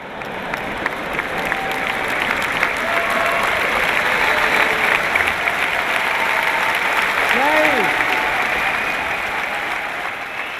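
An indoor audience at a motivational talk applauds in a sustained, dense wash of clapping that swells and holds for about ten seconds, with a voice briefly sounding through it.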